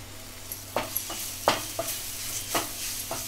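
A spoon stirs garam masala and spices in a pan over low heat for a Malvani clam dish, producing a faint sizzle beneath repeated scraping strokes that arrive in uneven bursts, close by.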